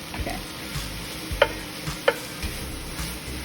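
Ground beef frying in a pan for stuffed bell peppers, with a steady low sizzle broken by two sharp scrapes or clacks of a utensil stirring the meat.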